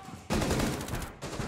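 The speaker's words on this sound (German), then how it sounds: "Ah! Schuss!" Gunfire from the video game Rainbow Six Siege, a loud, dense burst of rapid shots that breaks off briefly and then resumes.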